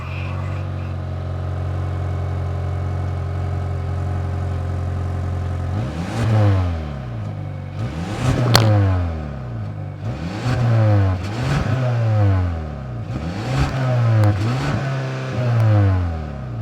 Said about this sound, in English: let's fire up this 2-liter turbocharged 4-cylinder engine and hear how she sounds